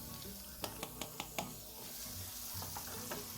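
Garlic frying in about 1.5 tablespoons of butter for grilled fish sisig, a steady close sizzle broken by a quick run of sharp stirring clicks early on.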